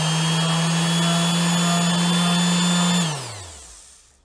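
Parkside PEXS 270 C3 random orbital sander at full speed: a loud steady motor whine with a constant hum, then the motor is switched off and winds down over the last second.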